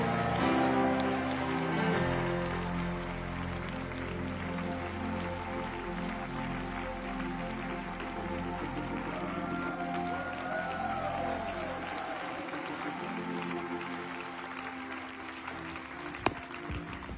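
Church congregation applauding and cheering as pastor Rod Parsley walks onto the stage, a broad, sustained wash of clapping from a large crowd, steady throughout with a sharp peak near the end.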